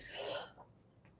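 A single short, husky cough from a person, close and fairly quiet, trailing off into a small throat sound in an otherwise quiet room.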